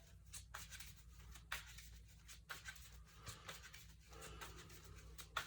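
A deck of cards being shuffled at a table during a card game's test hands, soft, close and quiet, with irregular riffling bursts and light taps, no talking.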